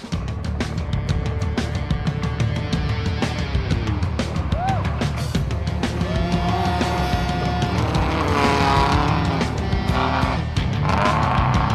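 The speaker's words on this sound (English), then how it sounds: "Now here's a special brand of racing which occurs on Maine's logging roads." Rally cars racing on Maine logging roads: a continuous loud engine roar with tire squeal and skidding, shifting pitch as the car drives hard, with some talk faintly in the background.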